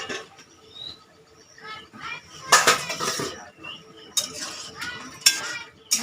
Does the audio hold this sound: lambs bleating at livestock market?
no